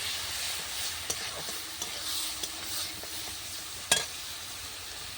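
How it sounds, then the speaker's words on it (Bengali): Ground roasted cumin and chili powder fry steadily in a hot pan over a clay stove, a constant crackling hiss broken by a few sharp clinks of a stirring spoon. "সমস্ত মশলাটা ভালো করে কষিয়ে নেবে"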